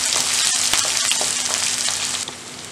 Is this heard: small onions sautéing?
yes